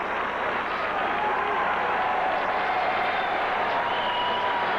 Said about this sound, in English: his proud parents applauding from the balcony